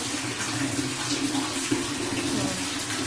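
Hot water runs steadily from a tap into a tub at a child's bath time, a continuous splashing rush with no break throughout.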